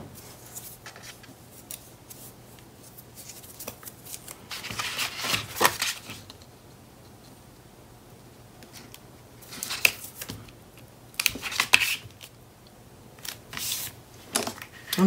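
Close, quiet handling of 3/8 inch score tape on a paper craft build: scattered crisp peeling and rubbing noises in short bursts, with clusters around the middle and toward the end, no talk.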